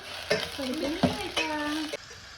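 Chopped onion and mustard seeds fry in hot oil, with a steady sizzle broken by a few sharp stirring scrapes, while a voice speaks over it in the middle of the clip.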